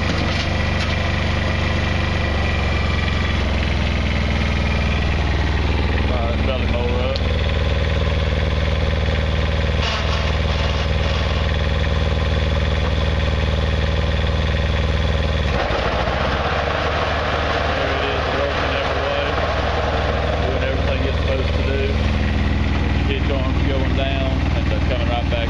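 A Kubota BX compact tractor with four-wheel drive, power steering, hydrostatic transmission and belly mower runs steadily throughout, its engine hum continuous and fairly loud beneath someone talking.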